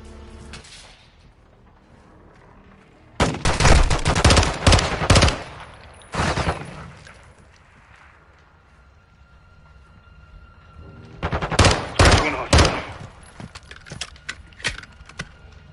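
Bursts of automatic gunfire in the Call of Duty Modern Warfare 2 campaign, loud rapid volleys in two clusters separated by a quieter stretch, with scattered single shots toward the end.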